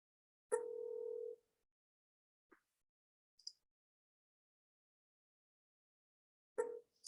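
A telephone dial tone sounds for about a second, followed after a pause by a few short, faint dialing blips and then another brief burst of tone, all alone with no talk in between.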